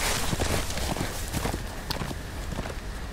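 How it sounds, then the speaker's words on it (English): Rapid hoof clip-clops of a horse in the Game of Thrones Telltale video game, a fast irregular run of sharp knocks over a dense background of game sound and music. "That horse scared me."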